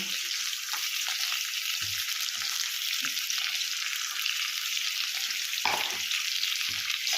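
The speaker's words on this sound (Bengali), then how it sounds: "এবার আলু আর টমেটোটা ভালো করে ভেজে নেব" Thinly sliced potato and tomato with turmeric and salt fry in a pan with a loud, continuous hissing sizzle and occasional soft thumps from stirring.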